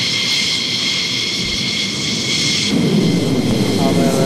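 A military jet takes off at the 2001 Waddington Airshow with a loud, continuous roar that deepens and swells partway through.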